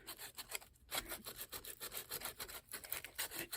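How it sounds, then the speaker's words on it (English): Sandpaper rubbed back and forth across a journal cover to rough up its surface, making quick, rhythmic scratchy strokes close up with brief pauses and no talking. "I can go ahead and I can sand it and just rough it up a bit."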